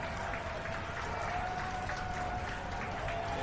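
Wrestling crowd at an Impact Wrestling women's title match at Terminus, a steady wash of applause and cheering from a large arena audience, continuous and fairly loud throughout with no clear speech on top.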